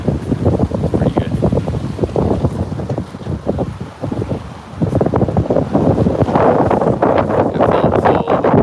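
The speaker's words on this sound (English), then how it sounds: "It's supposed to be windy today. You guys probably hear the wind." Strong wind gusting outdoors in North London, a continuous loud rush buffeting the microphone, easing briefly midway before surging back even harder.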